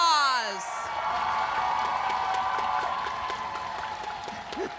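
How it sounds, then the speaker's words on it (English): Applause for honorees at an awards show rises as a tone fades out, a crowd clapping steadily with some cheering and whoops, loud at first and tapering slightly. "give them a round of applause"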